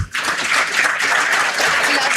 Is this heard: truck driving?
no